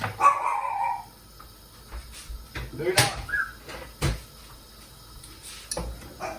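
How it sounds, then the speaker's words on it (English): A dog barks several sharp times in a home kitchen during cooking, the barks spaced irregularly among voices talking and the clatter of kitchen items. "The dog's ferocious."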